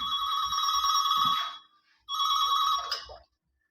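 A telephone rings twice before a business customer-service call, each ring a bright, warbling electronic trill lasting over a second, separated by a short pause, with a faint low rumble beneath.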